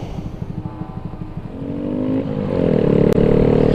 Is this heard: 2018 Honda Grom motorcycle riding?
yes